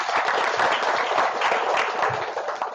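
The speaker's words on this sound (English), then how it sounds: "Give a round of applause," A crowd at an annual sustainability summit applauds in a thick, even wash of clapping that holds steady throughout, fairly loud and without distinct individual claps.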